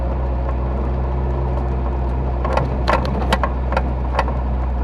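An abandoned Volvo 240 drives with its engine making a steady low droning hum and a weird rotational noise, while sharp ticking rattles come through in the second half.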